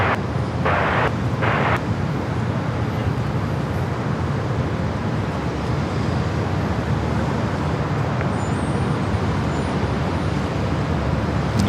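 An airliner bound for Munich taking off at San Diego airport: a loud, continuous broadband jet roar that holds steady throughout, with a few brief higher bursts early on.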